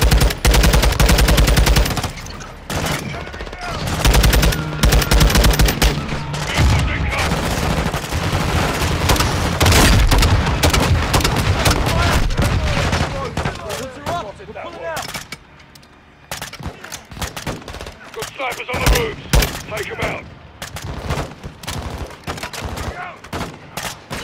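Gunfire in the Modern Warfare 2 campaign, with dense bursts of automatic rifle and machine-gun fire and scattered booms, loud and continuous at first, then thinning into sporadic shots under occasional game dialogue.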